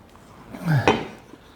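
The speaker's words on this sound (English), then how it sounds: "I can try to flip it out and get it on top of my, my cake stand" A metal cake pan is flipped over onto a cake stand, giving a short scraping clatter of metal followed by a sharp knock, close and moderately loud.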